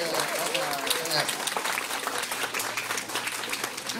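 A Bao Quang Temple anniversary audience claps steadily for the Buddhist family youth leaders. The applause is dense and even, fills the room for the whole stretch, and a voice briefly rises over it near the start.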